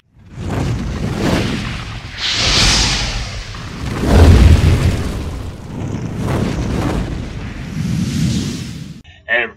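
Spaceship weapons fire and explosions rumble through the Battlestar Galactica Deadlock video game, a series of heavy booms and whooshing blasts rolling one after another, with a short clatter at the end.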